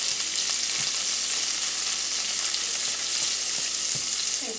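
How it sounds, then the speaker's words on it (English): Salted pork frying in butter in a pot for a traditional Newfoundland seafood chowder, giving a steady, close, even sizzle and crackle throughout with no talking. "our salted pork is frying nice"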